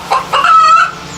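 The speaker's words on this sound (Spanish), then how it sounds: "La gallina cacareó emocionada" A hen clucks excitedly, a short loud burst of two or three rising squawks close to the microphone, alone without talk.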